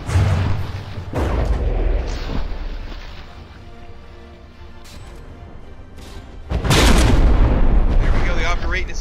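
Ship guns fire in a From the Depths naval battle tournament, with heavy booming blasts at the start and a louder sustained barrage near the end, and a voice talks between the shots.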